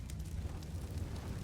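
Grenade blasts in a Counter-Strike match on the Inferno map, low rumbling booms rolling continuously under a dense, steady wash with a few brighter bursts on top, close and fairly loud.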